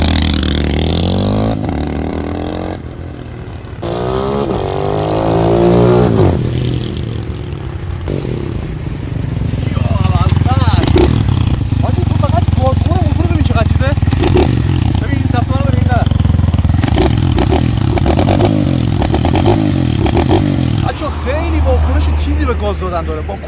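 A new, not yet broken-in Honda motorcycle engine revs up and down in repeated bursts, loud and close, with someone talking over it at times.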